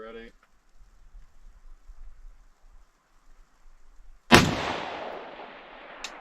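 Long-range rifle shot at 1100 yards in a blizzard: quiet wind and a brief voice, then one sudden, loud, close gunshot with a sharp crack and a rolling echo that decays over about two seconds.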